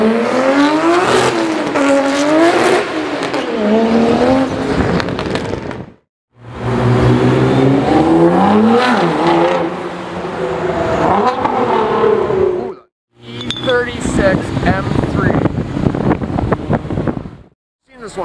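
An Acura Integra Type R engine revs hard at a JDM car show in three loud, rising bursts separated by short pauses, with wind buffeting the microphone and people talking nearby.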